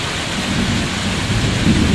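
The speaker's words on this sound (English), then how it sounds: "from afternoon it is raining very hard." Heavy rain pours on forest at Phuoc Son Monastery, Vietnam, in a dense, steady hiss with a low rumble underneath, continuous and loud, no voices.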